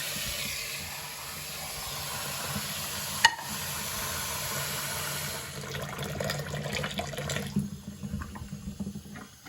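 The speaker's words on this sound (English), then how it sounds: "So then you just get some warm water" Warm water pours steadily from a tap with a broad hiss, turning more spattery and uneven toward the end, with a brief click partway through.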